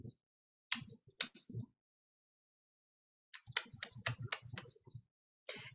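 Sharp tongue clicks made by a person imitating a kangaroo, a few at first, then a quick cluster of rapid clicks after a pause, close and fairly quiet.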